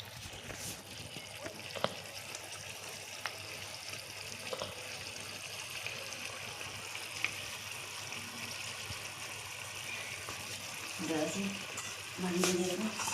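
Katla fish curry simmering in a pan, a steady low bubbling hiss with faint scattered pops, growing a little louder with some clatter near the end; no talk.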